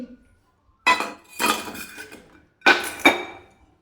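Dishes and metal bowls clink and clatter in a home kitchen as a bowl is pulled out for serving fish curry, with several sharp, close bursts of rattling separated by brief pauses.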